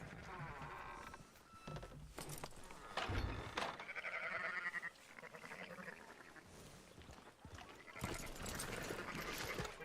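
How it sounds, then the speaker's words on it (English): Sheep bleating in the Red Dead Redemption 2 video game, several wavering bleats rising and falling among rustling, buzzy background noise, with a quiet voice briefly present. "Fine sheep."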